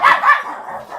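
Dogs in a house with thirteen dogs bark in two quick, loud, close yaps, followed by softer yipping.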